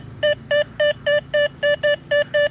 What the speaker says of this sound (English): That's a loud nickel signal.